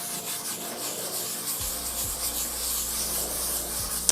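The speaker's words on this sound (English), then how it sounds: "And I'm just gonna scrub the leather." A soft-bristled leather cleaning brush scrubs a car's leather seat, making a steady, close, continuous rubbing swish with no speech.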